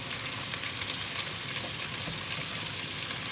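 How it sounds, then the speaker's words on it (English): Fennel seeds are stirred in a one-pot fish and chorizo stew, giving a soft continuous sizzling hiss with faint scraping at a steady level and no talk. "give it a quick stir around"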